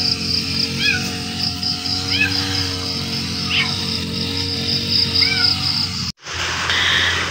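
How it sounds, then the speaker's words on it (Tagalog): Several short cat meows, fairly close, repeat every second or two over steady outdoor insect and ambient noise, then a brief break in the sound. "Meron na namang pusa dito."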